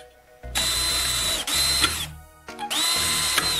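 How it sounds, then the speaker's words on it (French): A power drill bores into a small piece of metal profile in two bursts of high whine, each one spinning up and then stopping. It sounds close and loud, with short pauses between the holes. "Prenez un petit morceau de profilé métallique et percez 2 trous dedans."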